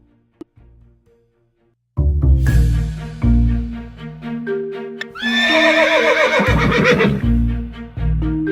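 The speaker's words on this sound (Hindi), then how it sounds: "ये घोड़ा हंस के दिखला दे" A horse whinnies in an animated Hindi children's story, a long, loud, wavering neigh rising over background music after a brief quiet opening.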